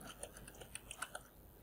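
Someone types a search phrase on a computer keyboard while using Microsoft Word 2016, a handful of faint, quick key clicks at an uneven pace, no voice.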